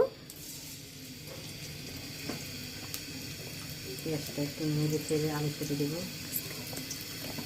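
Onions tipped into a hot pan of oil where fish was just fried hiss and sizzle steadily, growing busier midway, close up, while a person speaks over the crackling.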